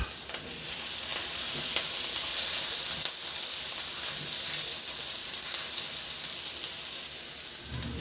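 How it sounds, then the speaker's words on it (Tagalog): Garlic sautéing in hot cooking oil in a pan, a loud, steady crackling sizzle that holds throughout with small bursts of spatter and no talk. "Magpainit na rin ako ng mantika sa kawali at igisa ko na yung bawang."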